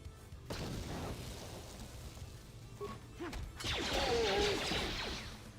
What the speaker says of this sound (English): Let's do a regular grenade.